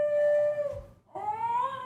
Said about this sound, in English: The dog is mooing.